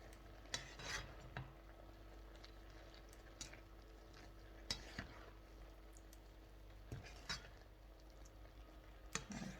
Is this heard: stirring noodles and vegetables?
yes